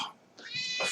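A house cat lets out a short, fairly close meow that rises and then trails off, heard alone without any talk.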